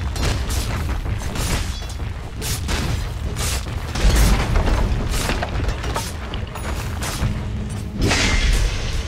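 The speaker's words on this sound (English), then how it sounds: "Dire's top tower is under attack." A tower under attack in a Dota 2 match, a busy run of booming impacts, thuds and attack hits in quick irregular succession, loud and close, with no talk.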